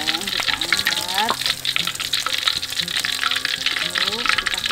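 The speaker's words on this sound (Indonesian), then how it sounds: "sekarang kita goreng dulu ikannya yang udah kita bumbuin sama garam" Salt-seasoned fish fries in hot oil with a loud, continuous crackling sizzle up close, with occasional stirring and spattering and some talk in the background.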